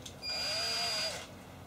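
A power drill whirs briefly while starting a hole through a template in an IKEA motorized bed base, one short steady burst of about a second that spins up and winds down, fairly close.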